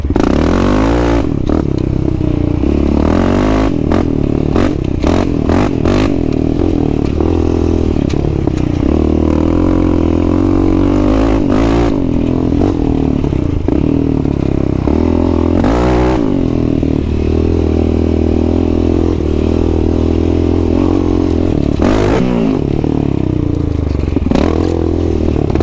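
A Yamaha Raptor 700 ATV on bald tires revs hard and repeatedly over hard-packed dirt, loud bursts of engine noise rising and falling with scraping and clattering mixed in, close and continuous.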